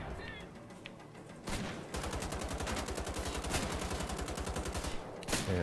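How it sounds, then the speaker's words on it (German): Double shotgun blasts boom in Wolfenstein The Old Blood, a heavy shot followed by a long rapid stream of repeated firing that rattles on for several seconds, then another loud blast near the end, with faint voice underneath. "Double Shotgun Action"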